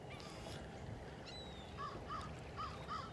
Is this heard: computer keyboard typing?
no